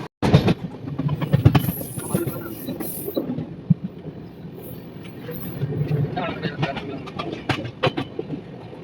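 The 12839 Howrah–MGR Chennai Mail passenger train runs on rails, heard from on board as a continuous low rumble with irregular clicks and clatters of the wheels over the track.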